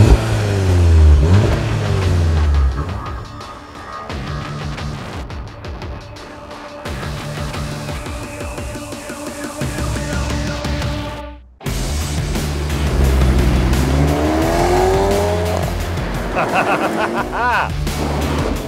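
A petrol car accelerates hard and drives on, engine rising and revving through gear changes, loud and close, with someone talking over it at times.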